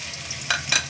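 Onion paste and garlic paste with cumin and chilli spices fry in oil in a kadai: a soft steady sizzle with two quick, bright scraping stirs near the end.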